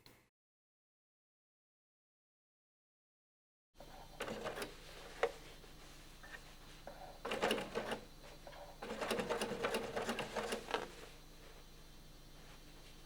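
A sewing machine topstitches a jeans fly zip in short bursts of stitching after a few seconds of silence, close and moderately loud.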